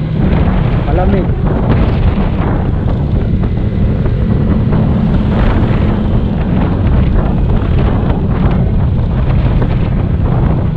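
Strong wind buffets the microphone in a constant loud roar at a high mountain highway overlook in the Philippines, with a few faint voices underneath.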